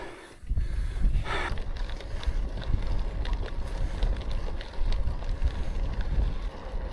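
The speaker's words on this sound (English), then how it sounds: "This wind is really, really bad." Strong gusty wind buffets the microphone while cycling along a public bridleway, a loud rough roar that swells and dips throughout with no talk.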